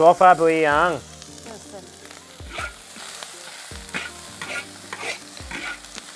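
Egg fried rice with peas and carrots is stirred and pressed in a hot pan in a Chinese village kitchen, giving a soft sizzle with irregular spatula scrapes after a brief loud tonal sound at the start.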